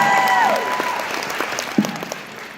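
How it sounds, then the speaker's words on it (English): Applause from a live audience after a question-and-answer exchange, a steady close wash of clapping that fades slightly, with a brief tonal sweep near the start and a few louder claps toward the end. "Round of applause for Stephen Norton, please."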